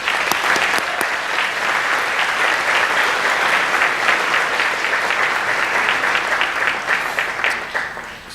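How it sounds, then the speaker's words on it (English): Sustained applause from an audience at a school awards day ceremony, a dense steady patter of clapping that holds evenly for about eight seconds before tapering slightly at the end. "Let's hear a round of applause for them."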